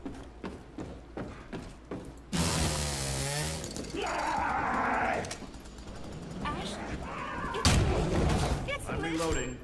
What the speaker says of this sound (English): A gold chainsaw.